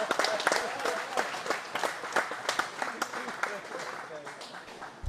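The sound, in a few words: audience applause at bowling championship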